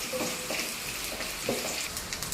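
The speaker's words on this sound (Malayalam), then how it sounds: "കടുക് പൊട്ടി അതിനുശേഷം തേങ്ങ കൊത്തി കൊടുക്കാം. ഇതൊന്ന് മൂപ്പിച്ചെടുക്കാം." Coconut pieces fry in oil in a pan after mustard seeds have popped, for a Kerala-style country chicken curry, giving a steady low sizzle with faint crackles and a few soft stirring scrapes, no voices.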